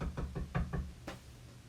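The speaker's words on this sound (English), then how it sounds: "there came a knock at the door." Five quick, close knocks on a wooden door come in an even rhythm, then a single knock follows after a short pause.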